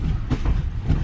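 A train rolls slowly along the track on the way to Chiplun, giving a steady low rumble with faint rhythmic wheel clatter and no voices.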